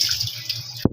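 Tap water runs steadily while chili peppers are washed, a close hissing stream that cuts off abruptly near the end with a small splash.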